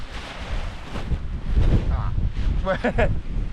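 Wind gusts buffet the microphone outdoors at a wild camping spot beside a DCF tent, a loud, rough roar that swells midway, with a person talking over it.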